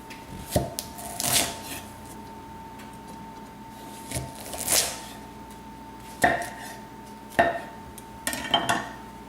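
A kitchen knife works through a raw spaghetti squash, cutting it in half with several separate thuds and scraping knocks against a cutting board, spaced irregularly and close, over a steady background hum.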